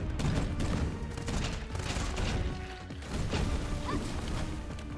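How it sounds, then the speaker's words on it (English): A turret firing from the sky in the video game Cinderia, rapid mechanical bursts of gunfire with clanking and creaking over busy game sounds, fairly faint. "There's a turret from the sky."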